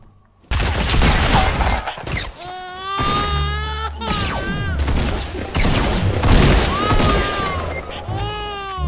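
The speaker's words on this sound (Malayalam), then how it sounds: "വെടി കിട്ടുന്നുണ്ടല്ലോ" Video game gunfire crackles in rapid bursts and fusillades, with whooshing effects between volleys, loud and close.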